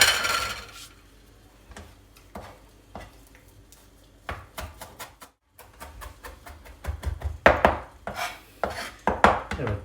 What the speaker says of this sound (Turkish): Şimdi dereotlarımızı doğruyor.